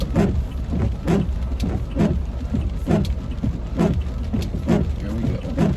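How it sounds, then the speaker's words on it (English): Heavy rain pours down steadily near a gym parking lot, a dense, loud hiss with recurring soft thumps and patters close by, with no other sound on top. "And it is raining like crazy, dude."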